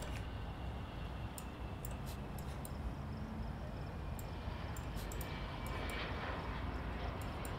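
Jet airliner departing an airport in the management game Airport CEO, a steady broad engine roar filling the scene with faint ticking interface sounds on top.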